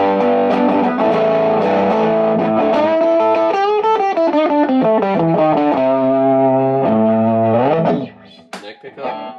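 An electric guitar runs through an overdrive pedal with its tube stage added and all pickups on, playing sustained distorted chords and sliding melodic runs, loud and upfront, before trailing off into faint scattered noises.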